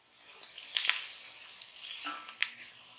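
Onions with chili powder sizzling in a pan while being mixed for a Mexican quinoa bowl, a continuous bright hiss with a few sharp scraping stir taps, close and moderate, no speech.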